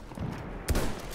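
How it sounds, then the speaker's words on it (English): Gunfire in Battlefield 1, a machine gun firing in the game: one sharp, loud burst about halfway through the clip, over a steady bed of battlefield noise. "There's a machine gun."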